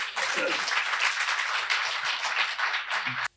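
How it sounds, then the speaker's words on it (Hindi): A Hindi kavi sammelan audience breaks into loud, sustained applause, many hands clapping together for about three seconds before it cuts off abruptly. "एक बार जोरदार ताली इनके उम्र को देखते हुए"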